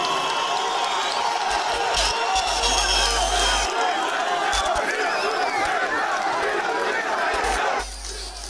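Large political rally crowd in Viranşehir roaring with sustained cheering and chanting, a dense wall of voices that stays loud throughout before easing slightly at the very end.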